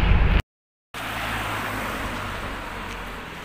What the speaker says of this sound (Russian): Вот на ходу залетела в автобус